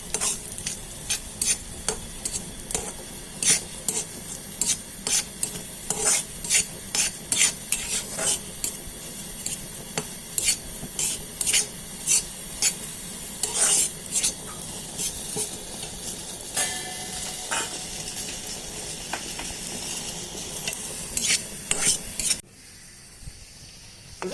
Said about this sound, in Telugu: నెయ్యితోటి వేపుతున్నాం అన్నమాట